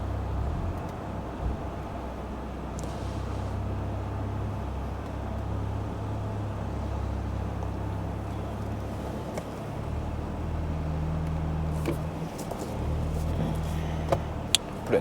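Inside a Toyota GR Supra fitted with a titanium exhaust, a steady low engine drone rumbles on through a night drive, with faint traffic wash and a few brief clicks near the end.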